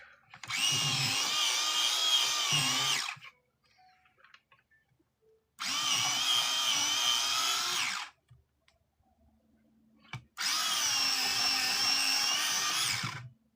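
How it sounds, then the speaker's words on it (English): A pencil being sharpened in a sharpener while drawing a giraffe, giving three loud, close grinding whirs of about three seconds each, separated by short quiet pauses. "I'm going to sharpen this one because it needs to be sharper."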